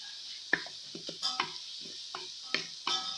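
Onions frying in a pan for mutton curry, a soft sizzle broken by a series of light scraping and tapping stirring strokes at an uneven pace, fairly quiet and without speech.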